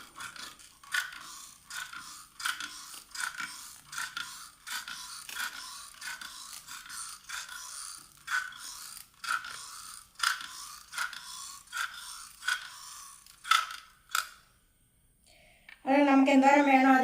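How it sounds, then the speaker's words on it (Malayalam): Ragi dough being pressed through an idiyappam press onto a leaf, a steady series of rhythmic squeaky scraping strokes, close and moderately loud, repeating about once a second before a short pause and a voice at the end. "ഇനി ഈ മാവ് സേവനാഴിയിലേക്ക് നിറയ്ക്കാം. ഇനി ഇലയിലേക്ക് പിഴിഞ്ഞു കൊടുക്കാം."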